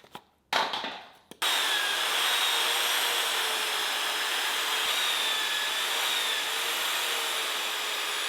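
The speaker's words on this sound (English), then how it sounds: "30mm mag drill cutter" After a brief clunk, a loud, steady grinding whine sets in and holds evenly as a 30mm magnetic drill cutter bores holes through steel nearby.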